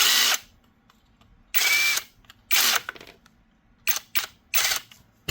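Cordless shears run on low speed, compatible with DeWalt 20V batteries, give short buzzing bursts near the tool: three longer runs, then three quick snips in succession, separated by silence.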